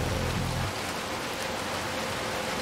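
Rain in the Little Nightmares 2 video game, a steady even hiss of falling rain throughout, with a deeper rumbling layer in the first half second that then drops away.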